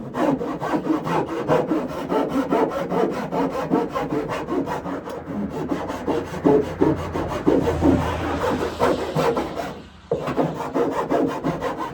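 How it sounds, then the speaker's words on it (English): A big old rasp filing wood for a mini deck chicken coop, loud and close, with steady back-and-forth rough strokes repeating rhythmically throughout and a short break near ten seconds. "I like the feel of this big old rasp."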